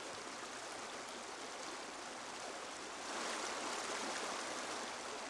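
A gently sloped Piedmont stream in Maryland flows over rocks, boulders and wood, a steady close rushing hiss that swells slightly louder halfway through.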